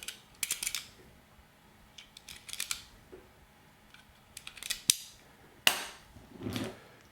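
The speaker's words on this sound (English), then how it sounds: "let me first load one of these magazines with a few dummy rounds." Dummy rounds being loaded into a 1911 pistol magazine: sharp metallic clicks and snaps come in irregular bursts, close and crisp, with quiet pauses between and no talking.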